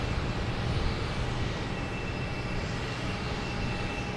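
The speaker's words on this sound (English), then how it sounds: "Let me get this JetBlue Mario taking off right now" A JetBlue airliner takes off from Boston Logan Airport, its engine roar a steady, loud, broadband rumble that holds without letting up.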